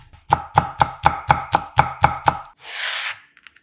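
Nine quick, evenly spaced knife chops slicing a halved Cheongyang chili pepper on a cutting board, crisp and close, followed by a short soft rustle.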